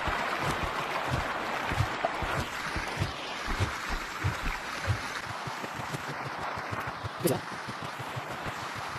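Steady loud rushing water flows in the Gorilla Tag virtual reality game, a constant wash filling the scene with soft thumping footsteps and a few voices heard faintly beneath it.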